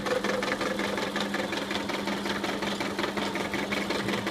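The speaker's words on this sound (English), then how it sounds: "It's a lovely little mill. And as you can see, it's chomping away at that quite nicely." A small milling machine cuts a way strip for a power hacksaw, giving a steady, close mechanical hum with a rapid rhythmic chattering of the cutter throughout.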